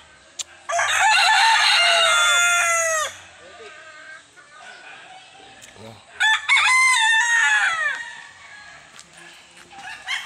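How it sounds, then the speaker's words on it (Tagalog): Fighting cocks crow loudly and close, one long crow followed by overlapping crows from several birds, with faint clucking and a voice in the background. "ang daming manok na panabong"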